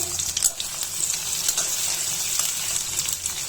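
Onions sizzling in hot oil in a pan for a Bengali shrimp and taro stem dish, a steady moderate crackle with light spits and pops and no talk.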